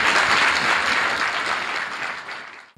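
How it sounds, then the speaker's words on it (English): A church congregation claps loudly and continuously at a healing service, a dense crowd applause that slowly fades and stops abruptly at the end. "Clap for Jesus Christ"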